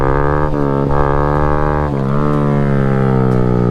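A Honda Grom motorcycle engine held in first gear during a wheelie, a loud, close, steady buzzing drone whose pitch dips and recovers a few times as the throttle is worked.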